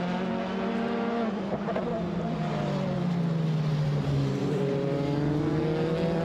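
Four-cylinder V4-engined race car at Sydney Motorsport Park during a state motor racing championship round, a steady loud engine drone with shifting pitch as it runs, continuous and moderately distant with faint commentary-free track ambience.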